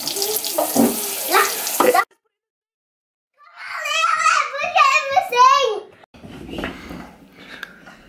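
Water runs from a tap into a sink in a bursting, splashing stream that comes and goes, loud and close, with someone talking before and over it.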